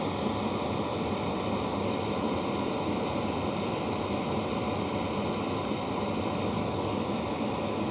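Steady, broadband roar of a Hcalory Toolbox 2s portable diesel heater running close by, an even whooshing hum with no breaks.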